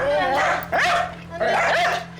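Two dachshund brothers living in the same home fighting, with sharp barks and yelping whines in two close bursts, loud and near.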